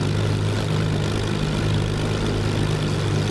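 Spitfire Mk Ia engine in Microsoft Flight Simulator running as the aircraft takes the runway: a steady, loud low propeller drone with a constant hum, unbroken and alone.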